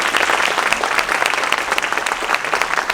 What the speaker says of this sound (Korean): 장재훈 사장님께 다시 한번 큰 박수 부탁드립니다